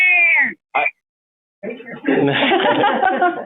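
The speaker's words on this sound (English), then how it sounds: "Hopefully that was a cat." A cat meows, a drawn-out cry followed by a short second meow, then a burst of louder, busier mixed noise that may be laughter or voices in a meeting room.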